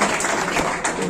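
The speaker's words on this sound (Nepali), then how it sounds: "तालीले स्वागत गरिदिनु होला" Audience applause at a Nepali savings and cooperative society's second anniversary celebration in Saudi Arabia, a short burst of dense close clapping mixed with voices.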